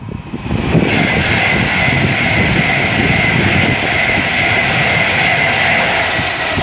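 A Class 390 Pendolino electric train on a London to Manchester run roars past close by at speed, with a loud, steady rush of wheel and air noise throughout, no talking.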